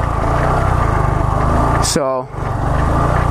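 A Honda Grom motorcycle engine holds a steady, fairly high-revving drone throughout while someone talks over it, with a brief dip near the end.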